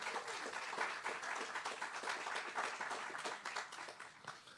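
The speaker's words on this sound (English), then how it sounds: "Let's give her a round of applause." Applause from an audience at a livestreamed event, a dense, steady wash of many hands clapping for several seconds, fairly distant and evenly sustained before tapering slightly at the end.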